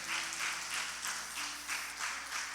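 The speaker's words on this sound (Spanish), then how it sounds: "Démosle una ofrenda de palmas al Rey de Reyes" A church congregation applauding during a Sunday service, a steady wash of many hands clapping together, moderately distant and even in level throughout.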